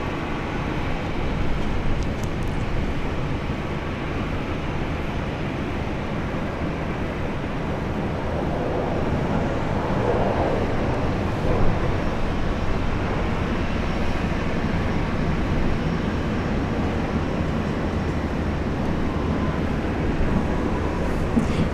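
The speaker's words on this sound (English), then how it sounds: "And that was Qantas Link heading off to Alice Springs" QantasLink airliner taking off from runway 19 left at Brisbane, a loud sustained broadband jet roar heard from a distance, steady and continuous with no talk.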